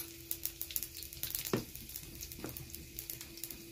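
Cumin and mustard seeds crackle and spit in hot oil with garlic in a pan, sharp scattered pops over a quiet sizzle, with a couple of louder bursts.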